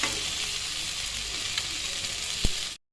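Boiled potatoes and chopped tomatoes fry with spices in a pan, giving a steady close sizzle with light stirring and one sharp utensil knock before the sound cuts to silence.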